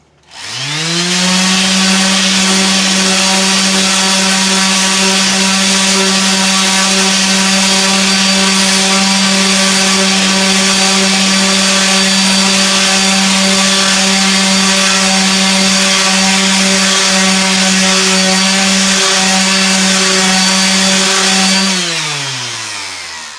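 A loud power sander grinding a bullnose on a tile edge whines continuously for about twenty seconds, spinning up at the start and winding down at the end.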